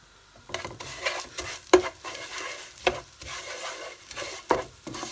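Vermicelli with cinnamon and cardamom pods simmers and is stirred in a pan, giving a soft, steady sizzle broken by repeated scraping strokes of the spoon and a few sharper clinks against the pan, with no one talking.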